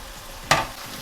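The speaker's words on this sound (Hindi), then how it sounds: "अब इसमें मैंने जो भिंडी और प्याज जो फ्राई करके रखी थी ये मैं इसमें शामिल कर दूंगी।" Fried okra and onion drop into hot masala in a pan, setting off a single sudden sizzle burst that fades over a fraction of a second against a low background hiss.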